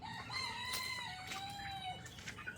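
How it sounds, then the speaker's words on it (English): A rooster crows on an Appalachian homestead, one long drawn-out call with a rising then falling, wavering tone, clear and fairly close over faint background noise and stray clucks. "Rooster there."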